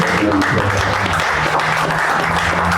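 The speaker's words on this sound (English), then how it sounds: "Let's give a round of applause for all of this." A crowd at an outdoor Memorial Day ceremony at a mansion applauds in a dense, loud, continuous wash of many hands clapping, without any speech over it.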